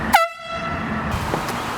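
A single loud, sharp air horn blast on a cloudy day, very close, cutting off quickly into faint outdoor background noise.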